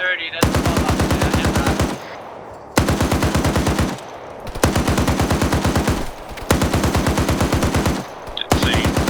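Long bursts of rapid machine-gun fire in a military video game op, loud and close, repeating in four or five sustained volleys of even, rattling shots separated by brief pauses.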